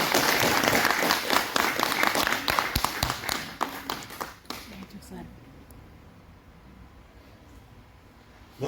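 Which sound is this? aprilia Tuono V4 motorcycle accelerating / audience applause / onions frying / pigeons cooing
audience applause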